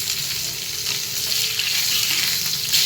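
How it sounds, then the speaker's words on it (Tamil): Fish frying in a pan for a home Sunday meal, a loud continuous sizzle and crackle of hot oil close up, steady with no voices over it. "மீன் வறுவல்."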